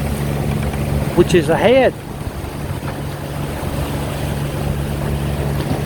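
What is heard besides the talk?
charter boat motoring under engine power, not sailing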